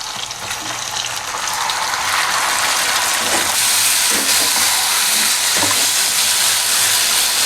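Chicken pieces tumble into a pan of fried onions and set off a loud, close hiss of sizzling that swells and holds, with a few clattering scrapes of the utensil; no voices.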